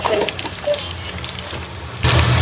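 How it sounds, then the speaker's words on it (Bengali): Onions fry in a pan with fenugreek seeds for an iftar biryani, giving a loud continuous sizzle with crackles. The sizzle surges sharply near the end, as if the onions were stirred or the heat raised. "পেঁয়াজটা ভাজা ভাজা হোক"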